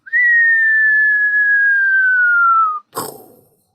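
A single long human whistle glides slowly downward in pitch, imitating the sound of sand being poured, then stops abruptly and is followed by a short breathy rustle.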